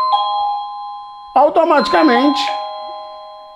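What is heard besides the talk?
Tuya smart Wi-Fi video doorbell chime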